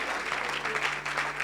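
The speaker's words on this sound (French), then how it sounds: "Donne une grande acclamation à Jésus." Applause from a congregation at a church service, a brief burst of dense, steady clapping from a crowd nearby.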